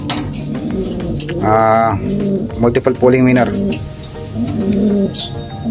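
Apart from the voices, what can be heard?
racing pigeons cooing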